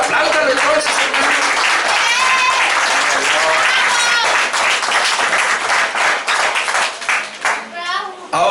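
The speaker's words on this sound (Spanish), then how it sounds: "Quiero aplaudir al Señor, apláudalo entonces, hermano." A church congregation applauds during a sermon, a dense burst of clapping mixed with scattered voices and someone speaking, steady and loud before thinning out at the end.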